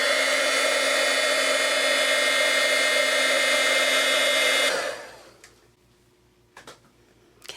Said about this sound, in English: So now I just need to get my heat tool, and I'm going to warm this up.